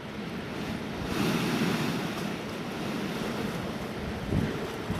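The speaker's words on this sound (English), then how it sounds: "Want to hear the devil breathing? We've got a blowhole here." A sea blowhole on a rocky coast, a low steady rushing roar of surf and wind with a soft surge near the middle and another toward the end, no voices.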